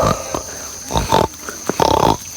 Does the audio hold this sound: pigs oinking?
yes